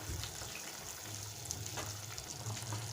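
A spoon works through chicken gravy thickened with cornflour in a pan, a quiet bubbling sizzle with soft scraping strokes, steady and close.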